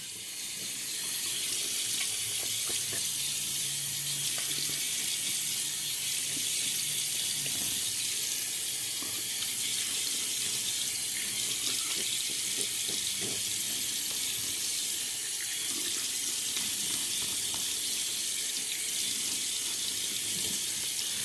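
A bathroom tap runs in a continuous close stream for wetting the face before shaving, a steady splashing rush with faint clatter underneath and no talk.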